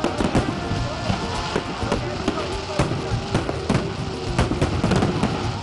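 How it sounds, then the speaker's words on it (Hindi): Dense, rapid popping and crackling bursts of fireworks going off continuously at midnight for Pakistan's Independence Day, fairly loud, with a murmur of voices underneath. "रात 12 बजते ही मुल्क भर में आतिशबाजी का शानदार मुजाहिरा किया गया।"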